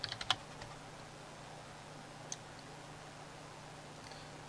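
A few quick keystrokes on a computer keyboard enter a Skyrim console command, with a short burst of clicks at the start, one isolated tap midway and another at the end, faint against a low hum.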